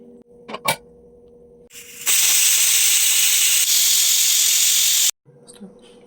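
A pressure cooker holding sprouted horse gram and lentils vents steam after two whistles, a loud, steady hiss lasting about three seconds that stops abruptly, with faint kitchen clatter before and after.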